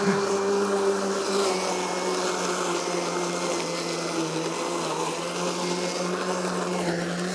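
A Gardena Handymower, a small battery lawn mower, cuts high grass with a steady close electric whir and hum, its pitch wavering slightly as it moves through the turf.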